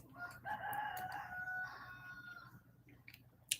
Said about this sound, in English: So the roosters are going to be way worse today because the window's open.